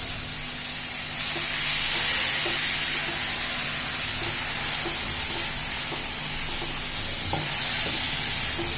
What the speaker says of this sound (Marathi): तांदूळ घातल्यावर पण गॅस मोठाच असून द्यायचा आणि मोठा गॅस करून परतायचे